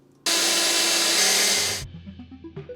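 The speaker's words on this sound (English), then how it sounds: "now we need to reach down and drill through the steel." A power drill bores through a steel ceiling during a DIY bathroom install in a lighthouse: one loud, continuous grinding burst of about a second and a half, which then stops and leaves a trail of fading ringing tones.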